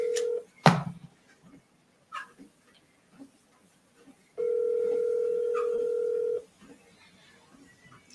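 Telephone keypad tones sound briefly near the start of a commercial real estate cold call, followed after a pause by a steady, loud electronic line tone lasting about two seconds, with faint background clicks in between.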